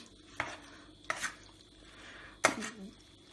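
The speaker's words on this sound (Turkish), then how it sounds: "Ve hepsini birden karıştırıyoruz." A spoon stirring sauce ingredients with salt and sugar in a bowl, three sharp clinks against the container over a faint background, quiet and close.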